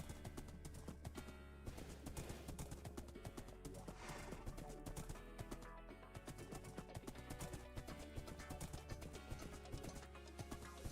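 Horse hooves clip-clop in steady rhythm in the video game Minecraft, the horse ridden along a survival-world road, with an occasional whinny over continuous background music.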